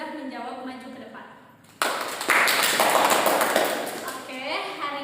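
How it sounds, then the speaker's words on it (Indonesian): Classroom applause for students who answered and came to the front: a burst of clapping from a group breaks out suddenly after a teacher's voice and continues steadily for several seconds, with talk resuming as it fades. "Kita kasih tepuk tangan dulu untuk yang sudah menjawab maju ke depan"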